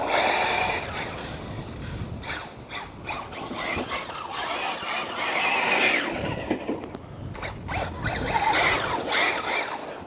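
The Rlaarlo F10 V3 RC car tears around a tarmac car park, its motor whining and squealing in rising and falling bursts as it accelerates, brakes and turns, close and fairly loud.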